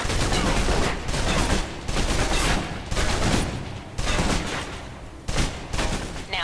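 Submachine gun in the video game Alpha Protocol emptying a full magazine, loud sustained bursts of automatic fire with short pauses between volleys, no talking.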